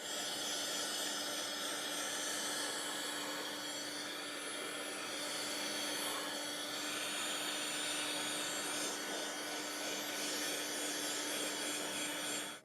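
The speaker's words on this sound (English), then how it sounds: "I'm going to hit it with a little bit of hot air from the heat gun" Heat gun blowing hot air onto a wenge wood sample board, a steady close roaring whoosh with a constant hum, unbroken and alone for the whole stretch.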